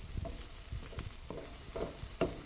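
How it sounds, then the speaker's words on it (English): Onions sizzle in a frying pan while being cooked until clear, with a steady hiss and scattered stirring scrapes and clicks from a utensil, close and moderately loud throughout with no talking. "more entertaining than just staring at onions with frying noises"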